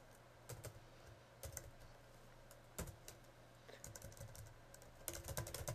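Quiet, steady clicking of a computer keyboard as C++ code is typed in Microsoft Visual C++, with irregular keystrokes over a low background hum and no voices.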